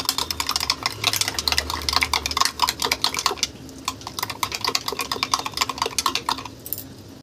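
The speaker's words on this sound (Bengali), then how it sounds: "দিয়ে এটাকে ভালো করে আমি ফেটিয়ে নেব" Yogurt gets whisked in a bowl with sugar, salt and roasted spice, a quick run of close, rapid clinks and scrapes against the bowl, slowing briefly midway and then going on again.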